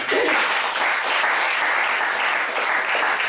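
A church congregation claps and cheers in acclaim of Jesus, a loud, dense, continuous wash of applause filling the hall with no break.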